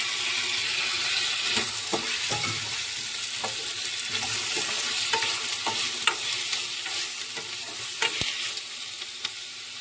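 Tomatoes frying in a pan, a steady close sizzle with scattered scraping and tapping of a spoon stirring them, plus a sharp knock near the end.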